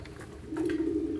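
A Firozpuri pigeon gives a short, soft low coo, close and brief, over faint background noise.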